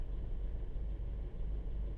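A VW Golf GTI Mk5 with a 2.0 TFSI engine on a poly dog bone mount idles with a steady, close, low rumble and a slightly rough undertone, continuous throughout.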